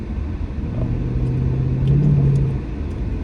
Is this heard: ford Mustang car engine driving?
yes